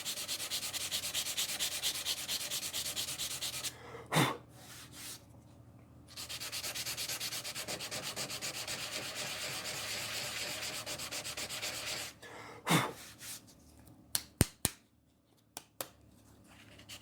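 Sandpaper rubs paint off a rustic wooden flag in long steady scrubbing passes, quiet and close, broken by pauses and a few sharp taps and knocks near the end.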